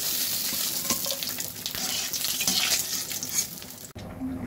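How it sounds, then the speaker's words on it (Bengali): Katla fish head frying in hot oil in a pan, a steady dense sizzle with small crackles throughout, close and fairly loud, briefly cut near the end. "মাছের মাথা ভাজা"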